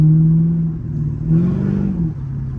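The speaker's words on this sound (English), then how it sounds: "The car sounds amazing." A Corvette engine idles with a low hum, then revs up briefly and settles back down, close by.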